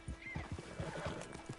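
A horse in the video game Red Dead Redemption 2 whinnies over a steady rhythm of thudding hoofbeats. Both sounds are moderately loud and close over a soft background hiss.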